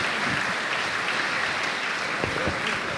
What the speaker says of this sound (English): Big applause for him again.